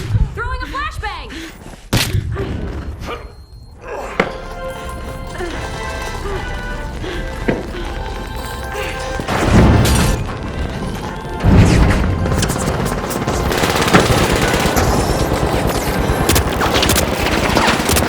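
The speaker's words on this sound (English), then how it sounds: "Grenade out! Throwing a flashbang!" A flashbang grenade going off in the multiplayer shooter The Finals, as sharp crashes and bangs break through dense continuous game noise and rapid gunfire, with voices talking throughout.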